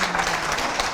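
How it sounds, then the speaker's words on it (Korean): An audience at a Korean seminar bursts into brief, loud applause, a dense burst of many hands clapping close by, with no one speaking over it. "자, 박수 한번 칠까요?"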